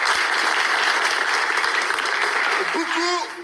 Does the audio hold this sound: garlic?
no